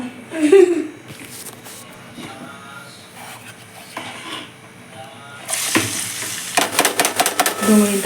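Tomato frying in hot oil in a pan for pasta, a steady sizzle with stirring scrapes that grows noticeably louder and busier partway through, with sharp bursts near the end.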